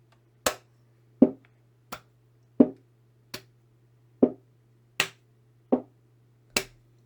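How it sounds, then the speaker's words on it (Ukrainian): Children in a kindergarten rhythm game alternate hand claps and fist knocks on a table, giving nine sharp, separate hits at a steady, unhurried pace over a low steady hum, with no talking. "На палочку ми робимо оплеск, на кришечку кулачок."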